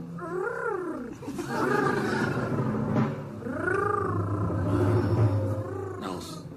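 A human voice imitates a cat, making rolling, throaty purrs and drawn-out sliding meows, fairly close and steady.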